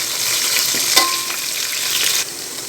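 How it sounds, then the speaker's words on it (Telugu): Chopped onion and four green chillies fry loudly and close in a pan for chicken curry. The strong, even sizzle has a few brief clinks of stirring. "ఒక 4 పచ్చిమిర్చి వేసుకోవాలి. ఇది మంచిగా ఫ్రై అవ్వాలి."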